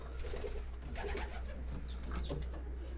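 At a pigeon market in Zgierz, pigeons coo faintly and intermittently over a constant low hum, with no voices heard.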